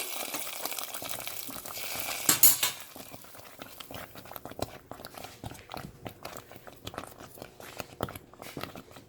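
A ladle stirs roasted rava semolina in hot oil in a pan while making kesari, giving close, irregular scraping and clinking against the metal.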